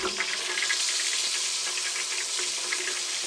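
Deer sausage sits in hot lard in a canning jar, and a continuous bright hissing sizzle rushes along at steady loudness without a break.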